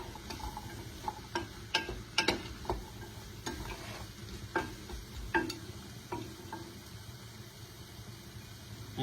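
Sweet potatoes stirred through melted butter in a pan for chicken soup with ginger and turmeric, a soft steady sizzle broken by irregular scraping and clacking of a spoon against the pot, fairly close with no talk.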